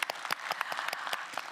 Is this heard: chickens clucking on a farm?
no